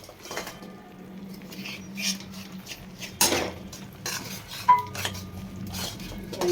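Wheat flour and gram flour roast in a pan while being stirred, producing quiet scraping and light clinks of a utensil against metal, with a few sharper knocks spaced irregularly.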